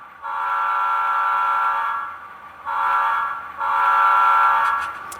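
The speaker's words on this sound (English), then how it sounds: "So this is the playable air horn again." Air horn on a model locomotive, sounded through the Blunami app: three sustained, harmonically rich horn blasts, a long one, then a shorter one, then another long one, loud and close, with no talking.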